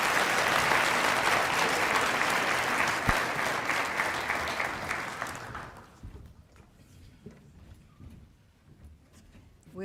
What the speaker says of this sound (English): Round of applause for the Mountain Vista athletes.